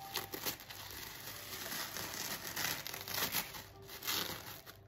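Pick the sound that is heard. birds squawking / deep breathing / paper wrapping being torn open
paper wrapping being torn open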